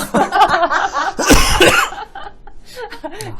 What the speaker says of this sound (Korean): 왜 기침하세요?